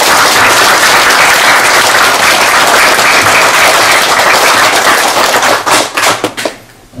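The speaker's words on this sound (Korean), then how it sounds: "여러분 응원의 큰 박수를 부탁드립니다" A temple congregation at a Buddhist service celebrating Buddha's birthday in Canada bursts into long, loud, dense applause of encouragement, steady for several seconds before breaking into scattered final claps and fading.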